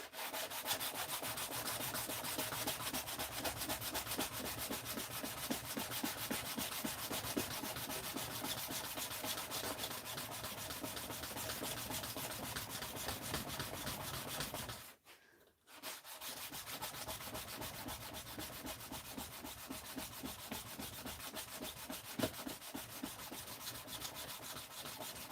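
A knife blade is hand sanded with 400 grit sandpaper in quick, rhythmic back-and-forth rubbing strokes, close and continuous, with one brief pause about two-thirds of the way through before the scraping resumes.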